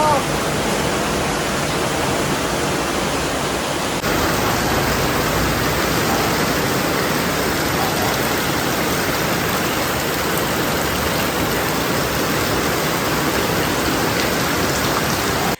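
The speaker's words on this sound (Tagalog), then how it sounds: "Lakas ng ulan dito sa amin, sa Antipolo." Heavy rain in Antipolo, Philippines, pours down in a dense, constant roar close by for the full length, steady and loud with no letup and no voices.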